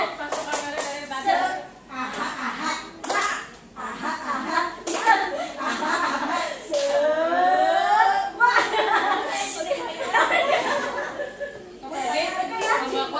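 Teachers at a positive discipline workshop doing a rhythmic spirit clap, bursts of patterned clapping mixed with chatter, laughter and speaking voices throughout.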